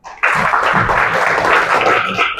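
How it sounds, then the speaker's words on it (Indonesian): Classroom of students clapping together in a steady, dense burst that starts abruptly and carries on evenly, with a few voices mixed in underneath. "Tepuk tangan."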